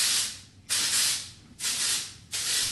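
Texture spray hisses from a can onto curled hair in three short bursts, each a sharp, close airy spray of under a second with brief pauses between, and no talk.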